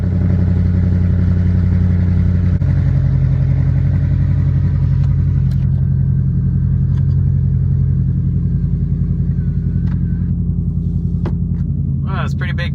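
Car being driven to a car show, its engine and exhaust a steady, loud low rumble throughout, with a few faint clicks near the end and no talk.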